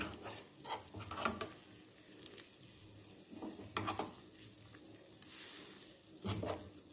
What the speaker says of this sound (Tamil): புளி ஊற்றி பாருங்கள் நல்லா கொதிச்சிட்ருக்கு